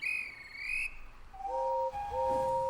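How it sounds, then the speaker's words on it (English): A guard's whistle sounds for a train departure, a shrill wavering blast up front followed by steadier, lower whistle tones near the end, moderately loud with no talk. "The guard blew his whistle"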